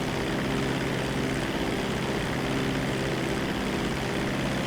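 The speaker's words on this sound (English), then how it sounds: "Pull up in your seaplane." Steady propeller drone of a Dodo seaplane in flight in GTA 5 Online, a loud, unbroken engine hum filling the whole stretch with no talk over it.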